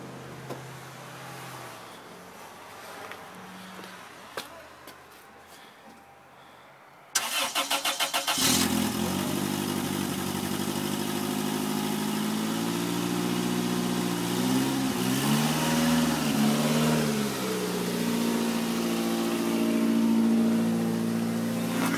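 A Toyota Corolla with no gas sits quiet, then the starter cranks and the engine catches loudly, running unevenly with a rough, wavering idle that dips and sputters as it struggles, heard close and alone.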